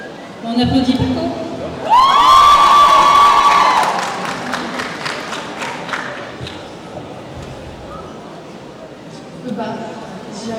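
At a manga festival contest, a crowd breaks into loud cheering and high-pitched screams with clapping, swelling sharply then tapering into scattered applause and murmuring, with brief talk before and after.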